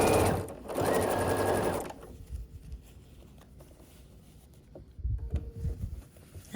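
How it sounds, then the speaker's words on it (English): A domestic sewing machine stitches the final seams of a quilt block in a short, fast whirring run of about a second and a half, close up, followed by quiet fabric handling and no talk. "you can go ahead and just sew the final 2 seams then"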